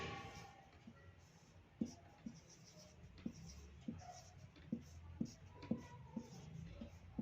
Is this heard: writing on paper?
yes